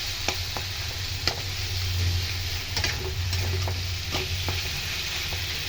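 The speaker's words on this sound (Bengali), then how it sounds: "ভালো করে এটা নাড়বো এবার।" Raw green banana bhurji being stirred in a hot pan, a spatula scraping and tapping steadily over a constant loud sizzle, close up and without any talking.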